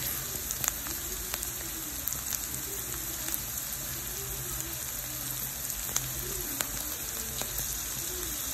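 Steady, crackling sizzle of food browning in a hot pan, soft and continuous with small pops scattered throughout, heard up close and without talk.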